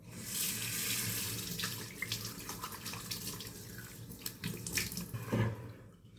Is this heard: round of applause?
no